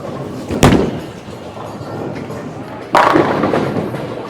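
An Ebonite Crusher bowling ball rumbles down a freshly oiled lane, then a sharp crash of pins scatters; a second impact follows a few seconds later amid steady alley noise and faint voices.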